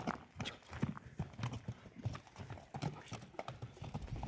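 Hooves of a young horse newly trained for riding clip-clop in a steady, even rhythm close by, with faint background noise and no clear speech.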